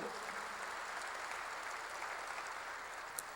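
Steady applause from a church congregation during a sermon, a dense even patter of many hands clapping throughout with no pause, moderately loud and alone.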